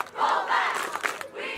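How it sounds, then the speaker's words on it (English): Students cheering together at Martinez Stadium during a march, a loud crowd shout that swells and rises in bursts before trailing off. "future Falcons shared a cheer with the Falcons of today"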